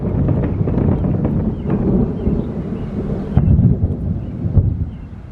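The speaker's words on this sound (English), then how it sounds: "It's been thundering every 5 freaking seconds" Thunder from a passing thunderstorm rolls as a deep, continuous rumble with gusty wind noise on the microphone, swelling into a heavier boom past the midpoint before easing back.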